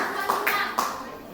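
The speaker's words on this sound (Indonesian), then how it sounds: "tepuk tangan untuk kelompok Putri Silaban" Students in a classroom clap for a group of classmates, a brief burst of scattered hand claps with a few distinct sharper claps, while a voice is heard underneath.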